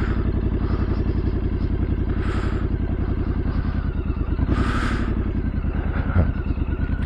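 A Triumph motorcycle with a new front tyre, ridden slowly while slipping the clutch at about 10 mph, gives a steady, close, low-pitched engine pulse with occasional brief whooshes of wind or passing traffic.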